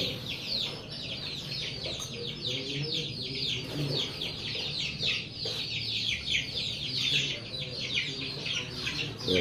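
A farm flock of young chicks receiving a killed vaccine shot chirps and peeps continuously in a dense, steady chorus, with faint low clucking underneath.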